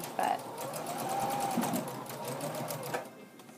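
A sewing machine stitches an apron in a fast, steady mechanical whir close by, running continuously while a voice speaks briefly over it.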